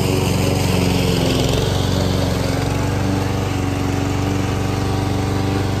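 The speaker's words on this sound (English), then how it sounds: "Mowing the lawn." Lawn mower cutting a home lawn, its engine a loud, steady, close drone that runs unbroken throughout with no voices.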